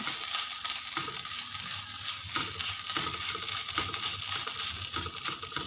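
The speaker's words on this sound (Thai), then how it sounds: "เราต้องผัดพริกแกงให้หอมก่อนค่ะ" Red curry paste fries in a small amount of oil with sliced shallots in a pan for a Thai bean curry, a steady close sizzle with light stirring scrapes running throughout, no voices.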